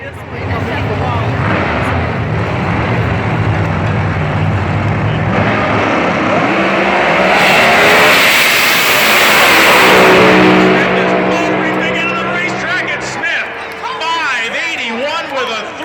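NHRA drag racing cars at a race in Atlanta roar continuously and very loud as they accelerate down the strip, engine tone climbing and swelling mid-run before fading, with a commentator talking over the noise.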